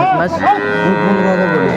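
A dairy cow moos once in a long, loud, close call at a busy cattle market, standing alone with no talk over it.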